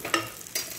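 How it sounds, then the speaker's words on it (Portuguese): Corn and bacon sizzle in a cooking pot as they are stirred, giving a brief scraping rustle with two short bursts of frying hiss, close and quiet. "dou uma mexida pro milho pegar o sabor"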